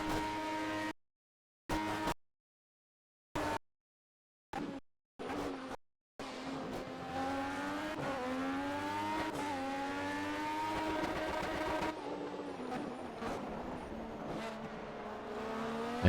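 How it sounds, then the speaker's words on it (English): An LMP1 race car engine in Project CARS on Xbox One, heard in short choppy bursts at first, then a sustained, loud engine whose pitch climbs, holds and dips as it strains near the rev limit. No speech. "I ended up hitting off the rev limiter there because I changed up and it didn't change up"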